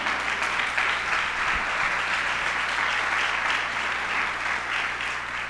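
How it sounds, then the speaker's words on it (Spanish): A church congregation claps together in sustained, steady applause that fills the space evenly from start to finish, with no voices rising above it. "Dele una ofrenda de palmas al rey."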